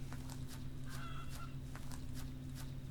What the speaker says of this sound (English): I heard a chicken.